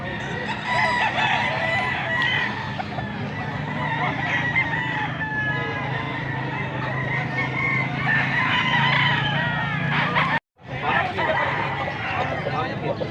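Roosters crow and chickens cluck at a market in Angeles City, Pampanga, over a busy background of people talking, with one brief cut to silence near the end.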